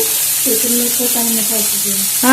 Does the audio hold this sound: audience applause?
no